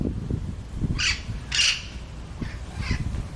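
Several harsh, raspy bird squawks ring out in short bursts, a few calls spaced across a quiet outdoor background.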